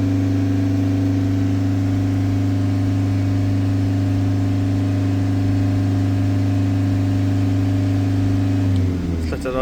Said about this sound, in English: So we're just holding the revs at 3000 RPM.